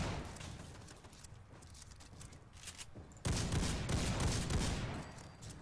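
Booming shots from an Ithaca Model 37 pump shotgun loaded with slugs in Fallout 4, with quieter scattered blasts first and then a sudden loud heavy report that echoes and rumbles for a couple of seconds.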